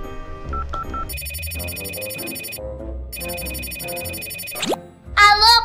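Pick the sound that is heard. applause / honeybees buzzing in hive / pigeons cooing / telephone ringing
telephone ringing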